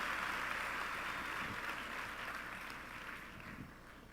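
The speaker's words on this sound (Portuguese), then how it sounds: "want you to give an applause and a welcome for missionary" A church audience claps in welcome for a missionary named Marty, a steady wash of applause heard faint and distant, gradually easing off.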